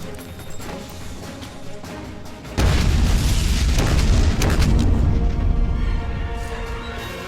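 A grenade blows up in a video game with a sudden loud boom partway through, then a long, roaring rumble that slowly fades after a quieter stretch of background game sound.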